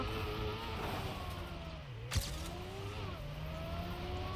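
Car engine in the racing game Trackmania 2 Stadium with the Shadow car skin: a steady, loud engine drone with shifting pitch sweeps and a brief sharp burst midway, no talking.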